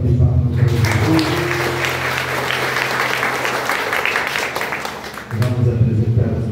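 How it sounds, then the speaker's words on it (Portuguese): Church congregation clapping for Jesus during a Catholic Mass, a loud sustained round of applause filling the space for several seconds, with a low held sound under its start and end. "Dê uma salva de palmas para Jesus."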